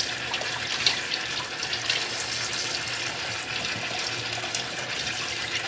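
Running tap water pours steadily while fish bought at the market is rinsed under it: a continuous, close splashing hiss with small irregular spatters and no voices.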